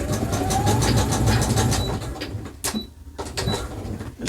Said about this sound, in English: You can go ahead and do a zigzag stitch.